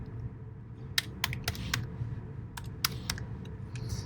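Fingers tap a computer keyboard in a quiet room, about a dozen soft, close keystrokes in short irregular bursts with brief pauses.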